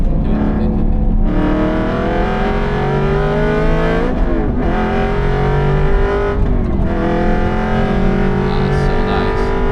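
A track-built Aston Martin Vantage V8 roars around the Nürburgring, the engine loud and close from inside, climbing through steady revs in long pulls with brief lifts between them.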